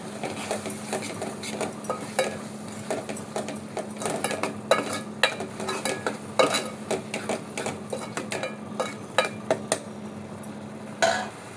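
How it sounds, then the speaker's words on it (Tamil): A spoon scrapes and clinks against a pan while onion and tomato are sautéed with a coconut and cumin paste for a spinach kootu; the taps come close and irregular over a faint, steady hiss, with no voices. "சேர்த்து இந்த வெங்காய தக்காளி கூடயே நல்லா வதக்கிக்கணும்"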